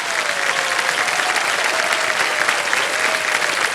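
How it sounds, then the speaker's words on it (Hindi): A studio audience on the Kaun Banega Crorepati quiz show claps loudly and continuously, a dense, even roar of applause with a faint tonal line running underneath. "तालियां बज जाएं इनके लिए।"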